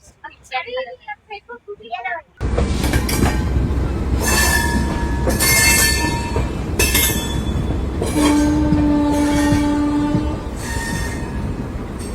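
A moving passenger train on the journey to Puri, in heavy rain, rumbles and squeals loudly and steadily on its wheels, with a long, steady horn-like tone near the end. Someone talks briefly before the train noise swells in.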